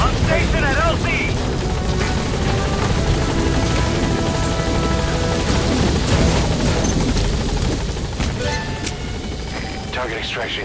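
A support helicopter arrives at a landing zone in the video game Metal Gear Solid V, its rotor a steady, loud, close thrum that runs the whole time under game radio voices and effects.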